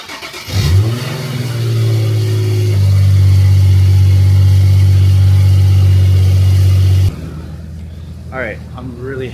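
A Nissan 350Z engine runs after a new Z1 radiator install, starting up and holding a loud, steady idle at close range with a brief rev, then cutting off abruptly; someone speaks briefly after it stops.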